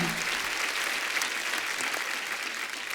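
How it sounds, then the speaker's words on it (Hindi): Loud, dense applause from a comedy talk show studio audience, sustained clapping throughout without a break. "one of the best actors के लिए एक बार जोरदार तालियां"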